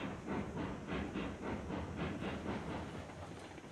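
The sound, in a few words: train moving in the video game Railroads Online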